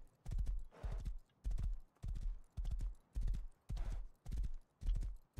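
Horse hooves in the survival game Rust clop in a steady, rhythmic gait, each footfall a distinct thump, close and fairly quiet, with no voices.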